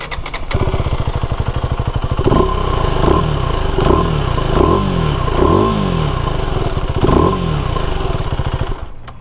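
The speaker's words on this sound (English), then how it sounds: "let's hear the akrapovic sound" A KTM Duke 390 motorcycle with an Akrapovic exhaust idles with a deep, throaty note, then revs sharply several times in short bursts, each blip rising and falling, close and loud.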